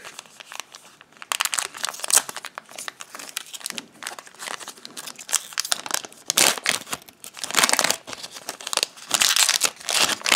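A foil Force of Will trading card booster pack is torn and crinkled open, giving continuous close, bright crackling and ripping bursts with brief pauses between them.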